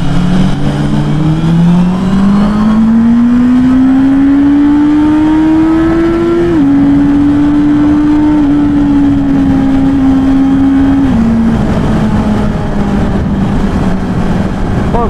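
A Honda CB650R four-cylinder motorcycle, a 2024 E-clutch A2 model, revs loud and steady, its engine pitch climbing smoothly through the revs, briefly dipping, then holding high before easing back down, with no voices over it.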